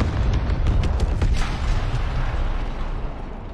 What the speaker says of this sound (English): Did they just blow up the hotel?